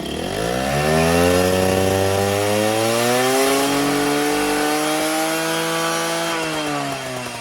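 A small two-stroke Derbi moped engine with a Giannelli exhaust pipe revs high and buzzy, its pitch climbing and holding steady with a raspy, continuous whine, loud and close.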